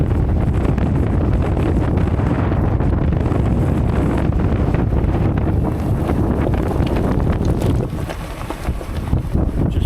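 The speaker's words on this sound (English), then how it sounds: "It's just so windy out here." Strong wind buffets the microphone on a desert trail near Phoenix, a loud, continuous roar with gusty rumbling that eases slightly near the end.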